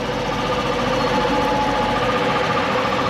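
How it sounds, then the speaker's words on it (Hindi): A Hero Passion Xtec motorcycle engine runs at a steady idle, a loud, continuous close-up mechanical chug with a faint ticking rattle and no talking. "और बाइक को मैं करके दिखाता हूँ स्टार्ट,"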